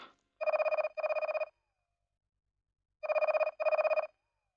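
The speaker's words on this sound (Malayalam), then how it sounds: "ഫോൺ ബെല്ലടിക്കുന്നു" An old-style telephone bell rings in two double bursts separated by a pause, loud and close in an otherwise quiet indoor scene.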